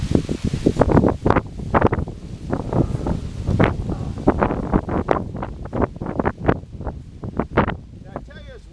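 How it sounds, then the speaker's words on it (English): Gusty wind buffets the microphone outdoors, a rough low rumble surging and fading while a person talks over it. "Did I tell you it's windy here?"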